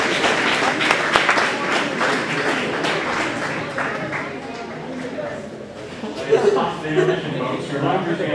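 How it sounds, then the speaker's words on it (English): Big round of audience applause for high school students at a live-streamed event, steady clapping throughout with some crowd chatter and voices mixed in. "can we get a big round of applause for our students?"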